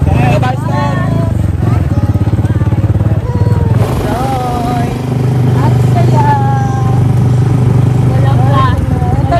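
Riding in the sidecar of a motorcycle tricycle in Malinao, Aklan: a steady, loud engine drone runs throughout, with rising and falling revs, rattling clatter and wind buffeting, while people talk and shout excitedly over it.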